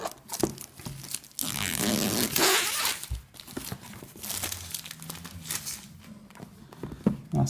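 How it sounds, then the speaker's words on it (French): Crinkling plastic wrap and rustling cardboard come from a HaierPad mini 781 tablet box being opened, with a zipper-like tear and steady close-up handling noise throughout, fairly quiet. "On va déballer ça."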